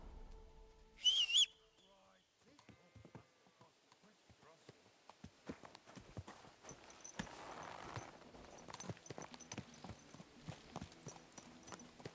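Rhythmic clip-clop of horse hooves on a hard surface in the video game Kingdom Come: Deliverance 2, close and fairly faint, after a brief whistle-like tone at the start.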